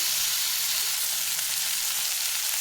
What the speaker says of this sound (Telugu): నేను చిన్న సైజు ఒక టమాటా తీసుకున్నా. ఇప్పుడు దీన్ని బాగా ఫ్రై చేసుకుంటాము.